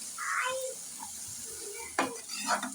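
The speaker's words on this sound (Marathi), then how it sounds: "आणि हे व्यवस्थित सगळीकडे मिक्स करून घ्यायचंय" Dill greens for shepu bhaji, salted and mixed around in a pan with a spoon, giving soft scraping and stirring sounds with a faint sizzle, close and fairly quiet.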